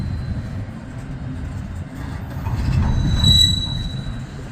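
Freight train backing into a lane at an intermodal terminal, a low steady rumble of rolling railcars with a thin high wheel squeal rising near the middle, heard at moderate distance.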